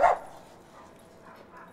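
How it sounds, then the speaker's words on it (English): A single short dog bark opens the moment, loud and close, then fades to a quiet room background. "What if we take that dog?"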